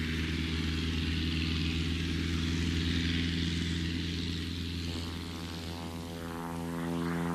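A propeller plane drones steadily with a deep, throbbing engine hum, its pitch shifting slightly as it passes.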